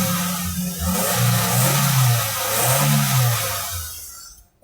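Engine of a 2008 Toyota Corolla XLi running steadily at close range, a low mid-frequency hum that rises and falls gently as if lightly revved, continuous for several seconds before cutting off.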